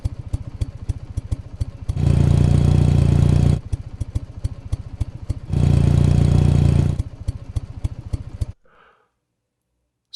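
A looping engine idle sample plays, a steady rhythmic low-pitched putter of rapid firing pulses, twice swelling into a louder roaring rev before dropping back to idle, then cutting to silence near the end.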